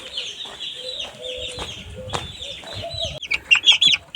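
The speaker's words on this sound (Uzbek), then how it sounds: "O'rtoqlar mana jo'jalarimiz." Young chicks peep and cheep in a flock of twenty-day-old birds. The calls come close and fairly loud in short bursts, some clucking is mixed in, and a few sharp high chirps near the end stand out.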